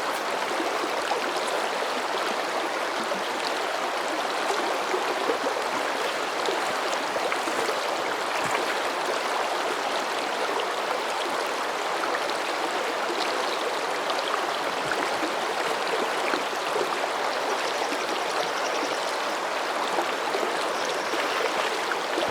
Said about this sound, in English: It's a very pretty little stream